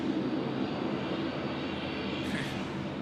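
A Singapore Airlines airliner on final approach to runway 16 right at Sydney Airport during heavy rain, a steady, broad engine roar that fills the whole moment, with no talking over it.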